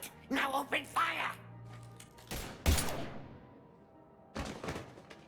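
Gunfire in the video game Mass Effect 3: a few sharp blasts after dialogue, a loud burst followed by another volley a moment later, with talking beforehand.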